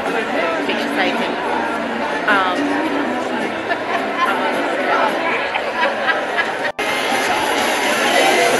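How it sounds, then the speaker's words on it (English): Dense crowd chatter at a film festival gathering, many overlapping voices forming a constant loud babble, with a brief dropout near the end. "I saw a massive crowd come."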